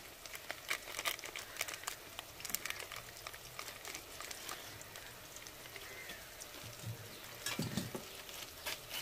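Chilli powder and spices for a fish curry fry in a pan as they are stirred, a soft, crackly sizzle with scattered light scraping ticks, faint and continuous.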